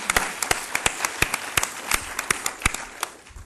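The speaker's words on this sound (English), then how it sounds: "I think we should join in an applause for them" Sparse applause from a small audience at a scientific study weekend, a few distinct claps spaced irregularly, fairly quiet and thin, fading toward the end.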